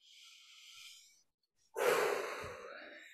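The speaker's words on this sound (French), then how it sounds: "Respiration." Close, breathy exhalations during a spiritual talk on the perineum, a soft sustained breath followed after a pause by a louder, longer sighing outbreath.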